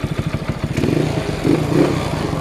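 The engine of a Mio motorcycle being tuned after a charging repair chugs in a fast, even pulse at close range, then settles into a fuller, louder running note.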